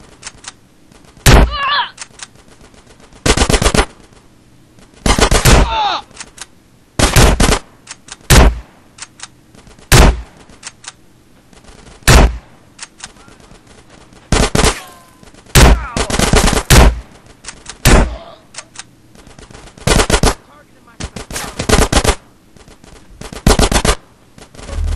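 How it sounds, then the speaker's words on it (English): Bursts of automatic gunfire in GTA: San Andreas, loud, close and repeated in short sharp volleys with brief quiet gaps between them across the whole stretch. "Get some suppressing fire in there."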